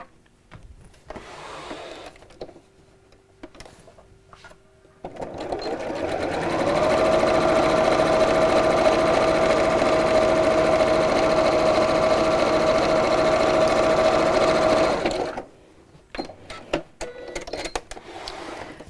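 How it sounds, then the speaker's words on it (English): A sewing machine runs steadily for about ten seconds, top stitching across the folded top edge of a lined apron, with a steady whirring hum and a sustained motor whine. Quieter handling noises come before and after. "we'll top stitch just across the top of the fold there"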